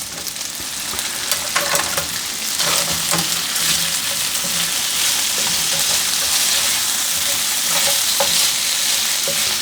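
Honey-soy chicken sizzles and fries in a pan, a steady, close crackle with occasional stirring scrapes, no talking.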